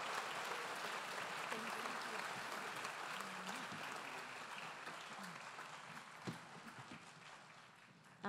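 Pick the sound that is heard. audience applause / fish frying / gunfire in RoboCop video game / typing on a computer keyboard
audience applause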